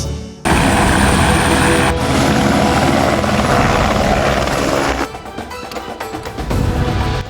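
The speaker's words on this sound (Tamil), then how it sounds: "திருமண கோலத்தில் இருந்த தம்பதி திடீரென கேட்ட பயங்கர சத்தம் ஊருக்குள் வந்திறங்கிய ஹெலிகாப்டர்" A helicopter lands in a village, its loud rotor roar and engine whine filling the scene, with a sudden cut partway through and the roar continuing on.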